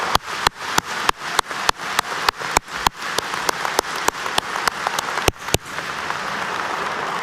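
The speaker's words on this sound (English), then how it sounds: "Let's give them all a round of applause." Applause from the audience at a College of Agricultural Sciences commencement ceremony fills the room as a dense, steady wash of clapping, with a few loud, close individual claps standing out in a rhythmic series.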